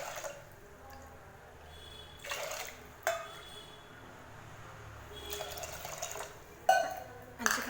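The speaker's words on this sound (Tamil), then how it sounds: "நம்ம 5 கப் அளவுக்கு தண்ணி சேர்த்துக்கலாம்" Water poured from a cup into rice and lentils for pongal, in several short splashing pours separated by pauses, moderately close over a quiet kitchen background.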